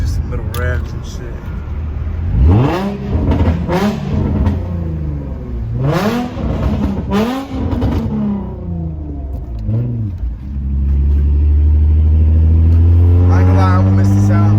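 A Nissan G35's engine, fitted with an aftermarket muffler, revs in several short bursts, pitch sweeping up and falling back, then settles into a loud, sustained high rev at the end.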